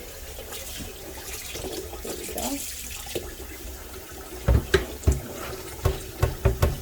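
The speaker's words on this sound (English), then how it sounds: "I'm basically going to just fill this whole pot up with cold water." Cold tap water runs steadily into a pot, a low broadband rush that fills most of the clip, joined near the end by a few sharp knocks and thumps. A person speaks briefly.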